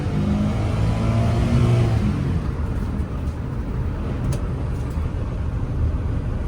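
A rare Suzuki Jimny J2's engine gets one quick rev, swelling loud and close in the first couple of seconds, then settling back to a steady idle.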